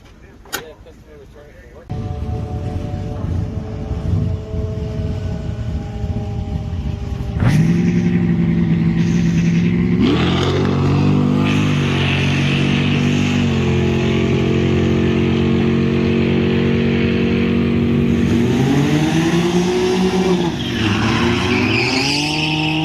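Can-Am Ryker three-wheeler fitted with an intake, revving and accelerating hard on a drag strip, its loud engine rising through several gear changes with a steady roar that swells and dips, a voice talking over it.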